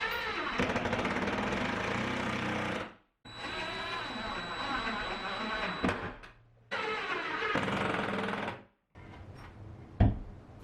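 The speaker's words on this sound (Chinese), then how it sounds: "再把另一颗螺丝打进去" A power drill drives a screw into a wall to mount a wooden floating shelf, running in three long, loud whirring bursts separated by short pauses, then a brief final spurt.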